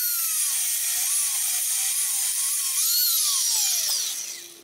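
A metal gear blank is cut in two with a high-pitched whining tool, a continuous shrill grinding tone that wavers and slides in pitch, close and steady before tapering off at the end, with no voices.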